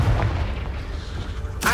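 A Confringo fire spell blast in Hogwarts Legacy booms with a heavy low rumble that fades, then a sharp bright burst hits at the very end, loud and close.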